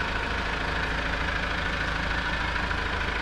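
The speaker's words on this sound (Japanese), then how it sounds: "エンジンがかかっていて、アイドリングの音が耳にはよく聞こえています。" A Mazda CX-30 engine idles steadily nearby, a constant low hum and soft rattle with no revving or other sounds.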